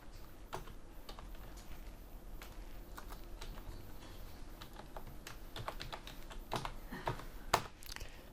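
Keys tapped on a computer keyboard in a quiet room, irregular clicks with a few louder strokes near the end, no voices.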